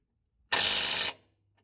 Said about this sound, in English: 18mm socket to tighten the bolt.